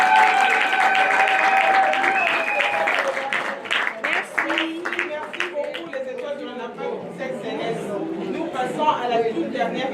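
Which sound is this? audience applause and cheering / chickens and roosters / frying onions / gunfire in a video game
audience applause and cheering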